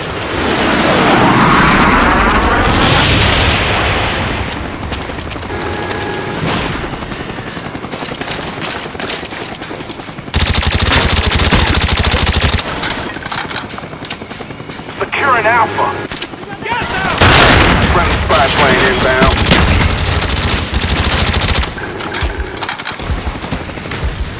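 A napalm strike and gunfire in Call of Duty Black Ops on the Jungle map, with loud bursts of explosions and shots, surges of roaring fire and jet noise, and chaotic battle sounds throughout.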